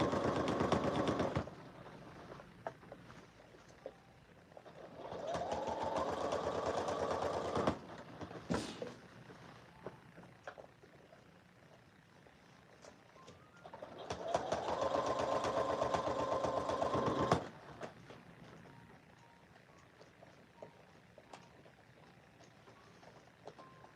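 A sewing machine top stitching an inner garment piece around an armhole runs in three bursts of rapid mechanical chatter, each a few seconds long, separated by quiet pauses, close up with no talking.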